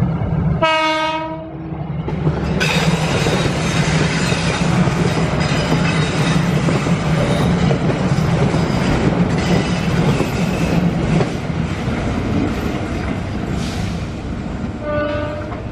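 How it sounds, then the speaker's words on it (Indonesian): A freight parcel train passes through at a station crossing in Indonesia. A loud horn blast comes first, then a long, close rumble of wagons with clattering wheels and faint squeals, and a second short horn near the end. "Kais 4 bersilang dengan kereta parsel, sukses berjalan aman dan lancar"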